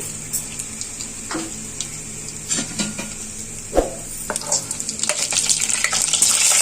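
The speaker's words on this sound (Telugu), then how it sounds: "ఆయిల్ హీట్ అయ్యాక ఇప్పుడు దీంట్లో హోల్ గరం మసాలా వేసుకోవాలండి" Whole garam masala spices crackle and sizzle in a tablespoon of hot oil in a kadai, a steady close fry with a few sharp clinks and splutters that grow denser and louder toward the end.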